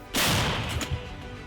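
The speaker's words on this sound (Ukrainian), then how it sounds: "Гармата постріл!" A single heavy blast from a captured Msta-B howitzer booms out sharply at a firing position, followed by a rumbling, rolling echo that slowly fades.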